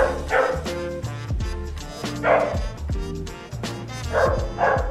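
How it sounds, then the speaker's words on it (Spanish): A dog yips and barks in short repeated bursts inside a home, fairly close and loud, with several clustered barks spaced across the stretch. "Cuando hay un perro ladrando"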